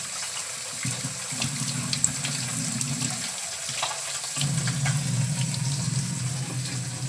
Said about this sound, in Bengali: এখন ডালগুলো ধুয়ে নিচ্ছি।